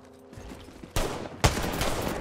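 Two loud sniper-style gunshots in a shooter video game during a no-scope attempt, sharp blasts about half a second apart with ringing tails, after a quieter stretch of game noise.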